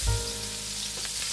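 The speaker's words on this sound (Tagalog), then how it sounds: "So ngayon, igisa na natin ang ating mga ricado." Garlic and other aromatics sautéing in a pan for ginataang langka, a steady close sizzle with a faint hum underneath and no voices over the brief moment.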